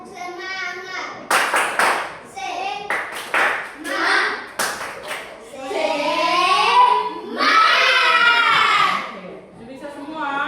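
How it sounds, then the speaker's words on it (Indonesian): Children clap together in a rhythmic spirit-clap pattern, several sharp bursts of hand claps alternating with their voices calling out, close and fairly loud in a classroom. "Tepuk semangat."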